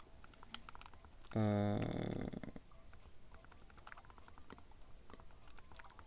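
Faint, quick keyboard keystrokes tap out a short entry for a Yo-kai Watch game, with a brief low hum partway through and quiet room background throughout.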